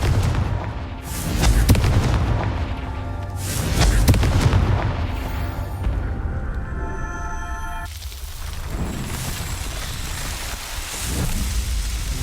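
The Confringo spell in Hogwarts Legacy detonates as a series of heavy booming blasts, with deep rumbling surges and crackling debris that roll on into a hissing, rain-like wash of noise, loud and close, with no talk.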